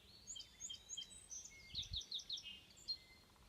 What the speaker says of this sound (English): It's a song sparrow.